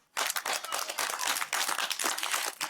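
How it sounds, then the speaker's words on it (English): A studio audience on a reality TV show breaks into sustained applause, a dense, crackling wash of many hands clapping close by that starts abruptly and carries on steadily. "Let's applaud once more."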